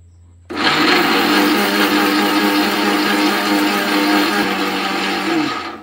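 A kitchen mixer grinder whirring loudly and steadily for several seconds while grinding homemade chicken powder, starting abruptly and running close and continuous.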